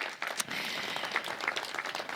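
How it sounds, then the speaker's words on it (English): An audience at a ribbon cutting ceremony marking the Brooks' one-year anniversary applauds, a dense, sustained crackle of many hands at moderate volume with a few sharper, nearer claps standing out. "So give them a round of applause."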